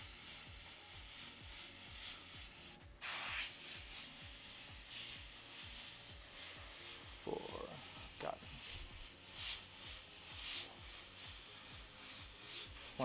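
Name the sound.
airbrush spraying paint onto a shirt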